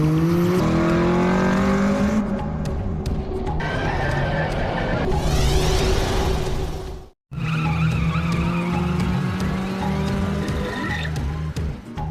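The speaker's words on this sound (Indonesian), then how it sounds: "Dia terlihat sangat expert ngedrift di tikungan dengan sangat stabil." A street-racing car drifts through a mountain corner in Initial D (2005): the engine revs and climbs while tires squeal and skid, loud and close, cut by a brief moment of silence midway before the engine roars back.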